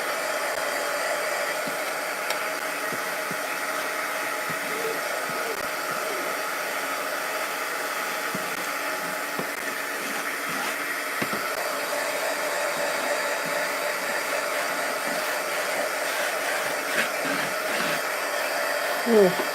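A hair dryer blows steadily at close range to dry a craft material, making a continuous loud whooshing hiss that stays unbroken throughout.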